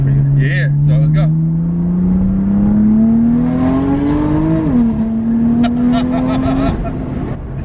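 A BMW F80 M3 with a Bootmod3 stage 2 tune pulls hard. The engine drone climbs steadily in pitch, dips briefly at a gear change, then climbs again, loud and close from inside the car, with voices talking over it.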